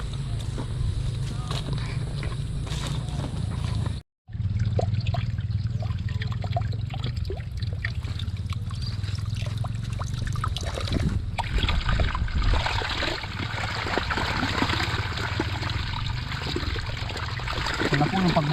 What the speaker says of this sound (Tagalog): napakalakas, napakalakas po lang dating ng tubig yan